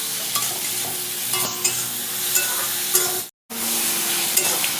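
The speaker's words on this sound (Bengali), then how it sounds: "যেটা 2 মিনিট কষাতে হবে ভালো করে।" Bottle gourd sautéed with salt sizzles steadily in a pan, with a utensil scraping and stirring in scattered clicks and a short silent break near the end.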